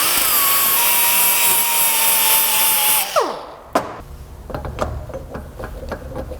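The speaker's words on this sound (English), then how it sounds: "I'm just using like a mini flappy wheel on my angle die grinder" A mini flap wheel on an angle die grinder grinds a brake pad during a GMT400 truck front-end rebuild. A loud, steady high whine runs for about three seconds, then the tool spins down in a falling pitch, followed by a sharp clank and quieter handling sounds.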